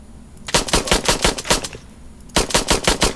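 Battle mechs exchange fire in the online game Mechwarrior Online: two loud, rapid machine-gun bursts of sharp repeated cracks, separated by a brief quiet gap.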